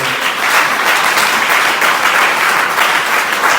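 A church congregation claps and applauds together, a dense, loud, steady burst of clapping that fills the room from start to finish with no voices over it.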